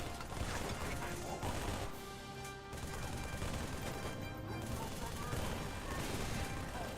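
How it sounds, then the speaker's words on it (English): Continuous dense gunfire and crashing impacts in a video game, loud and sustained with a grenade blast somewhere in the chaotic barrage, voices talking faintly underneath. "They threw a grenade. Watch yourself."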